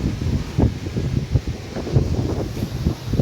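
Strong wind blowing at a seashore temple, heard as loud, buffeting low rumbles and gusts hitting the microphone in uneven pulses, with no speech.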